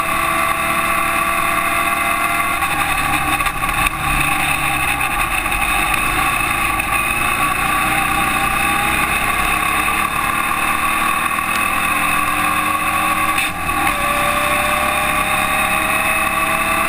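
A Formula Vee race car at a New South Wales race, heard from the cockpit on the straight: a loud, steady engine drone that holds nearly level for the whole stretch, with a brief dip near the end.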